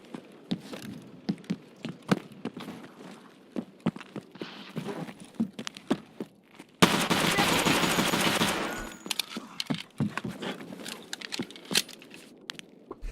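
Gunfire in the video game Escape from Tarkov, with scattered sharp shots throughout and a dense sustained burst of automatic fire in the middle, loud and close.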